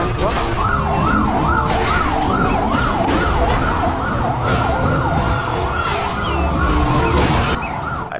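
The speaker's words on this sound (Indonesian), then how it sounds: "kalau yang ini mobil pemadam kebakaran" Toy fire truck siren wailing in a steady rising-and-falling electronic cycle, loud and close and continuous throughout, with a faint voice in the background.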